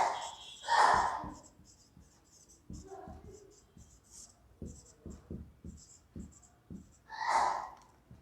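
Chalk on a board while an equation is written out: a run of quick taps and scratchy strokes, with short bursts of speech at the start and end.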